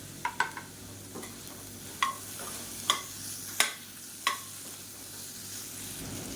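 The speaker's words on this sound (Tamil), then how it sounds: "காலிஃப்ளவர் சேர்த்து நல்லா வதக்கியாச்சு" Cauliflower and tomato sautéing in a pan over a quiet, low sizzle, punctuated by about seven sharp, close knocks of a spatula against the pan at irregular intervals.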